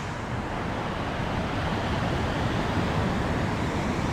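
Surf at Kuta Beach, Bali, at sunset: a steady, broad wash of breaking waves mixed with wind rumble, continuous and fairly loud with no voices.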